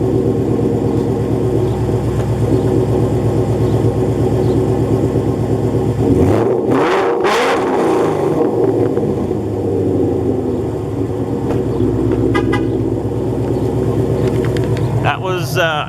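A 2015 Ford Mustang GT V8 with Stainless Works headers and exhaust idles with a deep, loud rumble, then is revved sharply a couple of times before settling back to idle, close to the microphone.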